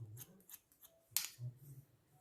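Faint, close snips of scissors cutting hair in a quick series, with one sharper, brighter clip partway through and soft low rustling underneath.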